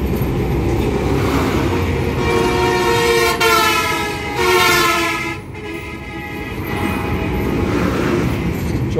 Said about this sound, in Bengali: প্রথম যমুনা সেতুতে ট্রেনে করে যাচ্ছি